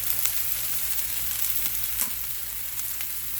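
Mushrooms fry in a hot pan for a veggie tortilla omelette, making a steady, close, crackling sizzle with scattered pops throughout and no talking.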